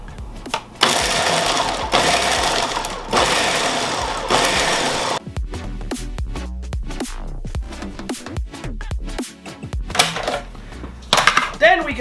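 A food processor pulses garlic for a chunky pesto in three short whirring bursts, followed by irregular clatter and knocks from handling the bowl and lid.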